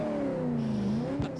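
Car with a big engine pulling away from a stop, a steady rising engine drone lasting over a second, followed by a brief thump near the end.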